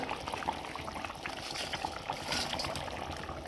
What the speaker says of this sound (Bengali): এই দেখো ভালো করে জলটা সিদ্ধ হয়ে গেছে ঝোলটা।